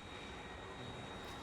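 Steady propeller airplane drone from the Factorio video game, a continuous broadband engine hum that holds level for the whole moment with no talking over it.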